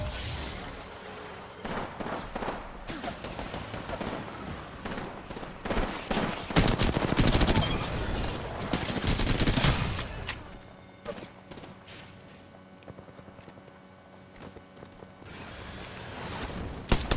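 Rapid gunfire in the video game Gun N Run, dense bursts of automatic shots and crackling impacts that build to a loud barrage, then thin out into scattered shots over a quieter stretch.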